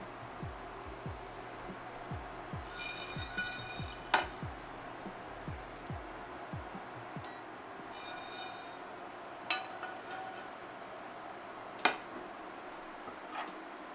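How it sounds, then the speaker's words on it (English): Peppercorns toast in a pan over medium-low heat, giving faint, sparse clinks and light rattles of the metal pan against a quiet background, with a few sharper taps standing out. "toast the peppercorns in a pan for 1 minute on medium-low heat"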